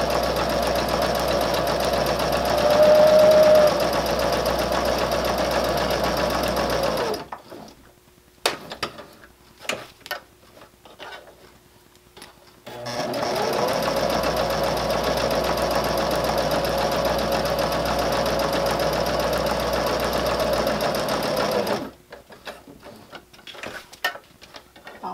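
A sewing machine stitches around a fabric basket in two long, steady runs of fast, even mechanical whirring, each lasting several seconds. Between them comes a quiet pause with a few clicks and fabric handling, and the motor is loud and close.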